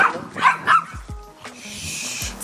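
A dog barks in short sharp bursts outdoors, a few close yips and woofs spaced across the moment, with faint background noise between them.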